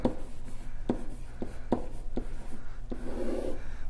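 Handwriting on a board or paper while working through a tangent line and velocity math problem: a run of short scratchy strokes with brief pauses, close and fairly quiet, with no talking.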